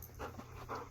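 A dog pants close by in quick, breathy bursts, a few short huffs over about a second, fairly soft with a brief sharper noise right at the end.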